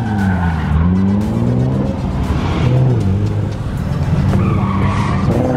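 A car drifts with loud, continuous tire squeal and a roaring engine rising and falling in pitch, close and intense throughout.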